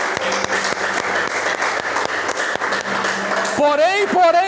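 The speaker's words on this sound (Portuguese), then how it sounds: "Vamos aplaudir o Senhor por isso." Church congregation applauding, a steady dense wash of clapping with a voice speaking over it, then the voice carries on singing or preaching as the applause fades.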